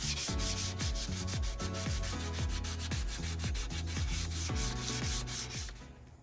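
Hand sanding wooden nightstand drawers with 220 grit sandpaper, close and loud, in quick rhythmic back-and-forth rasping strokes, roughly two per second, fading slightly at the end.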